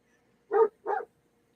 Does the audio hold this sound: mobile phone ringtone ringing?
no